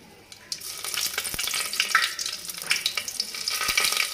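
Cloves, cinnamon and bay leaves fry in hot oil for a biryani, giving a crackling sizzle that starts after a brief pause and runs on with bursts of popping and a couple of sharp clicks.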